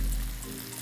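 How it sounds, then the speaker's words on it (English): Spaghetti for garlic noodles sizzles in a pan over the highest heat as its water boils off. It makes a short, dense, close hiss over a low rumble that fades slightly, with no voices. "That sizzling is the sound of frying, which indicates that the water has boiled off a little too much."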